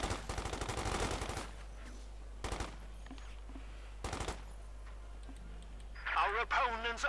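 Bursts of machine-gun and rifle fire from a Company of Heroes 2 World War II strategy battle, loud rapid rattling salvos at the start with two shorter bursts later, over steady game ambience and a commentator talking near the end.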